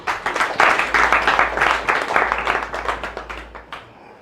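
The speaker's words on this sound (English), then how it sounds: "Can you clap for it?" An audience at a college general assembly breaks into steady clapping, dense and fairly close, building quickly and then tapering off over a few seconds.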